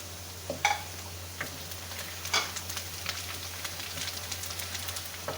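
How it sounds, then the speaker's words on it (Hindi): Cumin seeds fry with golden onions in a pan, giving a steady close sizzle with a few sharp crackles and pops and no talk. "ज़ीरे को हमने हल्का सा भून लिया इसके अंदर।"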